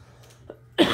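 Single short cough at close range, coming at the end after a quiet stretch with faint background noise, during a Christmas gift unwrapping at home.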